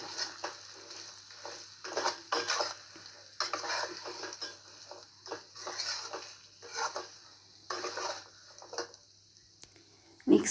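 Ground roasted spices, coarsely crushed, being stirred into potatoes for achari aloo dum, a run of scraping, stirring strokes against the pot in irregular bursts, close and moderately loud, with no talking.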